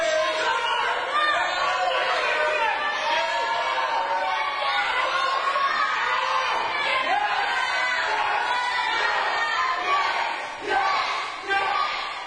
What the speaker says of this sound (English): you can hear the reaction from this crowd